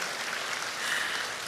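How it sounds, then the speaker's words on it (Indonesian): Church congregation clapping at a worship service, a steady dense wash of many hands applauding together at moderate loudness, with no voices over it. "Yang papi mami tepuk tangannya."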